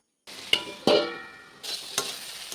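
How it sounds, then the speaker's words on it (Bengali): Pumpkin stir-fry sizzles in a pan as the lid comes off with a clang and a spatula stirs through, giving a few sharp scrapes over steady frying hiss, close and clear. "তো ঢাকা খুলে একটু নাড়িয়ে দিচ্ছিলাম।"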